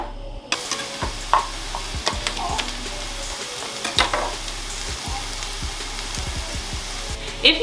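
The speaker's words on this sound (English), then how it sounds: "I'm just gonna throw the onions in the pan, and I'm gonna let them sweat." Onions sizzling as they sweat in oil in a pan for a vegetable curry, a steady close hiss with occasional stirring clicks and scrapes throughout, no talking.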